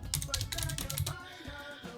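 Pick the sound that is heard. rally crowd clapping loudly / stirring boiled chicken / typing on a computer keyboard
typing on a computer keyboard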